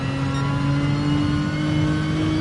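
Nissan GT-R engine in Gran Turismo Sport on the Dragon Trail Seaside track, held loud and steady against the rev limiter, a dense buzzing drone with no voices.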